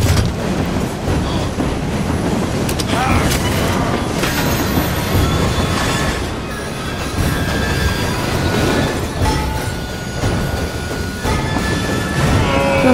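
A train rumbles along in the video game Assassin's Creed, with loud continuous clattering of wheels on rails and occasional metallic squeals, close and steady throughout, no voices.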